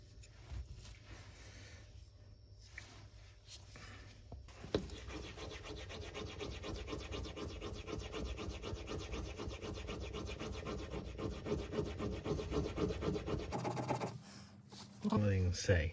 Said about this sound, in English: Time for burnishing.